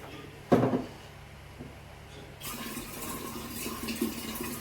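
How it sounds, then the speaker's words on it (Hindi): Tap water runs steadily into a clay pot in a home kitchen, a continuous close, moderately loud gush that starts partway through after a brief knock and a quiet stretch. "तो मैं ये घड़ा भर लेती हूँ"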